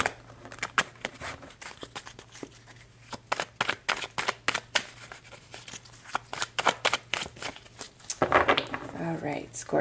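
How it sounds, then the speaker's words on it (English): Tarot cards being shuffled in repeated quick riffling bursts and soft slaps across the deck, close and fairly clear, with a denser flurry of shuffling near the end. "let's shuffle the tarot here so we can see what's coming out"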